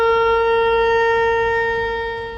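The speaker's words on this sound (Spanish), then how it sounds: "Tequía. Es un sonido como de trompeta" A shofar sounds a tekiah: one long, steady, brassy trumpet-like blast held loud and unbroken for the whole stretch, fading slightly at the end, with no voices.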